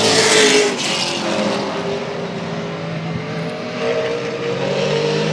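Race cars roar around the Central Texas Speedway oval, a loud, continuous engine drone swelling and fading as the pack passes, with no voices over it.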